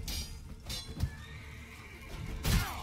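A horse whinnies in the video game The Witcher 3: Wild Hunt, with hoofbeats clopping close by, and a second loud neigh near the end.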